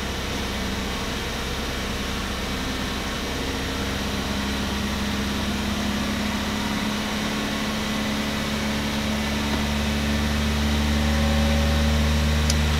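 A Chevrolet Cruze engine held at raised RPM, a steady, continuous mechanical hum with a strong low drone and broadband hiss, running alone at a constant level for the whole stretch.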